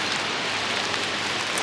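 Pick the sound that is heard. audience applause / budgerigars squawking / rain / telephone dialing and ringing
rain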